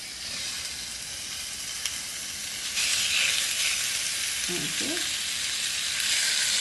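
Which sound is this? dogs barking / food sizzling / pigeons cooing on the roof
food sizzling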